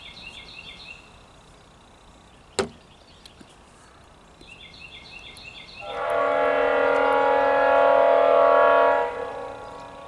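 A westbound Kansas City Southern freight train running from New Orleans toward Baton Rouge sounds a loud, sustained horn blast of about three seconds, following a quieter stretch with faint rumble and one sharp click.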